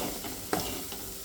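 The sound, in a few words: potato filling being stir-fried with salt and turmeric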